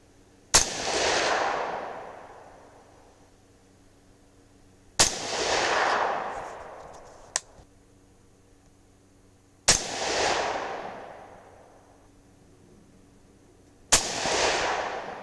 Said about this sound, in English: We'll go ahead and shoot a group.